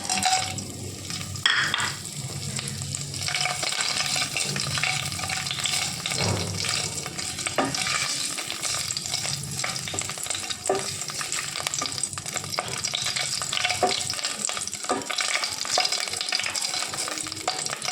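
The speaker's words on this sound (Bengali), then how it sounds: "তো আমাদের তেলটা গরম হয়ে গেছে, দেখুন। এর মধ্যে এখন আমি গোটা গরম মশলা দিয়ে দিচ্ছি।" Whole garam masala spices crackle and sizzle in hot oil in a pan, a loud, continuous frying hiss with occasional sharper pops and stirring scrapes, heard up close for the whole stretch.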